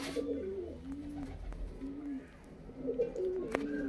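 Punjabi pigeons, including a white-eyed red-headed bird, coo in soft repeated rolling phrases close by, a couple of birds overlapping against a quiet low hum.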